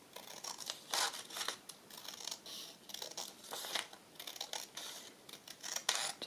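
Scissors snip through paper for a ring-bound journal, giving short crisp cuts in an irregular rhythm, close and fairly quiet with small rustles between them.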